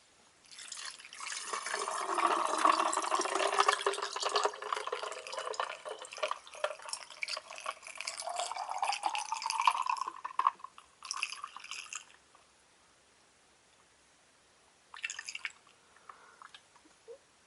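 A Hasbro Nerf Arctic Shock Super Soaker with ice cubes inside is filled with water, a steady close gush whose pitch climbs for about twelve seconds before it stops, then brief handling and splashing noises.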